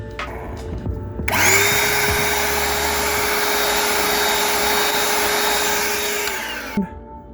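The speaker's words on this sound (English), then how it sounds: "I'm going to vacuum that up." A vacuum cleaner switches on and runs with a loud, steady high whine while it sucks up debris from model railroad scenery, then cuts off near the end.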